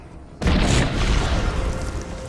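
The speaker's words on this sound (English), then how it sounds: "Enemy barracks destroyed." A loud boom bursts out suddenly in the video game Guardians of Middle-Earth as an enemy barracks explodes, then leaves a dense rumbling roar that fades slowly.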